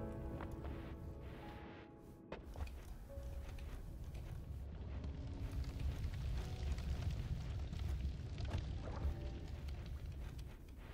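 Double bomb explosion in the video game Noita: a sustained, dense rumbling blast with crackling debris that keeps roaring for several seconds at a fairly quiet level, without speech.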